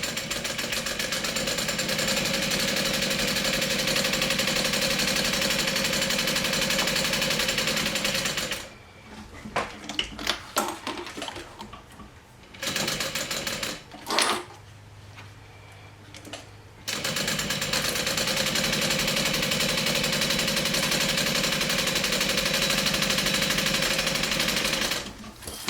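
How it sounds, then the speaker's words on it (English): A sewing machine runs steadily, stitching fabric straps down to a folded edge on a sewing project, loud and close with a continuous mechanical whir, stopping for several seconds midway with softer handling noises before resuming. "I'm going to sew the straps down at the 8-inch mark"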